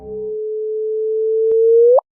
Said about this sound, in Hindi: और जब दो ब्लैक होल कोलाइड होते हैं तो कुछ ऐसी आवाज आती है।